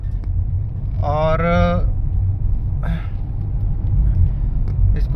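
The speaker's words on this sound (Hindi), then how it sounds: "चलते हैं हम गाड़ी को लेके आगे।" Car engine running while driving, a steady low rumble throughout, with a brief tonal sound and a short spoken word over it.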